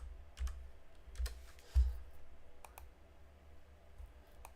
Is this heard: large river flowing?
no